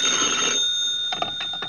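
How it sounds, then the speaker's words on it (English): An old-time telephone bell rings in a vintage radio detective drama, a bright sustained ring followed by shorter clattering bursts, close and alone. "10 minutes later, I got a phone call."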